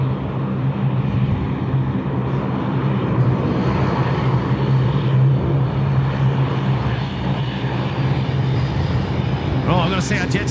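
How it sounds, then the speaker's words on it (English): A Bombardier Q400 turboprop airliner taxis at Sydney Airport at night, a steady loud engine drone with a low hum that holds throughout, with people talking excitedly over it. "Q400, what a gorgeous machine."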